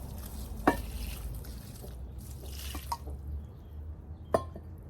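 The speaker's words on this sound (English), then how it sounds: "So we're going to add a little water." Water trickles onto very porous potting mix, a faint, soft wash of liquid punctuated by a few sharp drips and small splashes over quiet room noise, with no voices.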